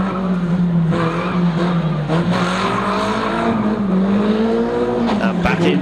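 Saloon stock cars and bangers racing on an oval at Kings Lynn, engines droning loudly and continuously with shifting revs as one car is pushed into the tyre wall, a few sharp impacts toward the end.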